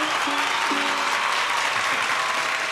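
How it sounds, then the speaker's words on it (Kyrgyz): An audience applauds a singer performing with a komuz, a dense, steady burst of clapping that fills the whole stretch with nothing else heard. "Кол чабалар."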